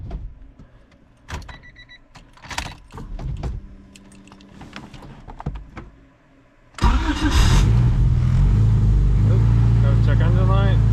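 A turbocharged Honda D16 engine cranks briefly amid clicks and handling noises, then catches and settles into a steady, loud idle close to the microphone.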